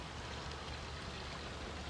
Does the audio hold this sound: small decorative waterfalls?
yes